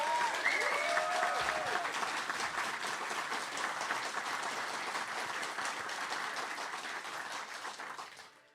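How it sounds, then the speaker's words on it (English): Crowd applause during an EverQuest anniversary keynote, dense and steady throughout with a brief tonal chime early on, tapering off at the close. "join me in a round of applause for everyone that has helped make this"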